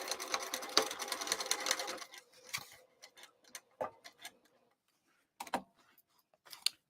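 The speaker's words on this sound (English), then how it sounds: "We're just going to sew right across it." A sewing machine stitches across an existing line on a bowler bag in a quiet room, a brief close whirring burst followed by scattered soft clicks and ticks of the needle being turned by hand.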